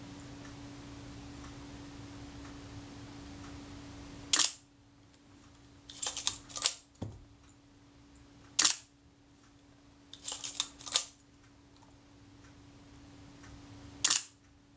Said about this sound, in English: Ideally, the shutter should release and the film advance should be released at the same point in the stroke of the shutter release button.